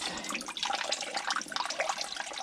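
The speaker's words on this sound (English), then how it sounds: "Ew, it's dripping out of there." Liquid dripping and trickling out of an old container in a long-untouched storage outbuilding, a continuous splashy, spattering patter heard close up and steady throughout.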